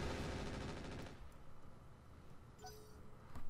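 Light machine guns fire in the mech game Roguetech as a rapid rattling burst for about a second, then trail off into quieter mechanical rumble and faint game effects.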